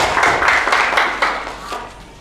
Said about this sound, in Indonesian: Oke, beri tepuk tangan dulu dong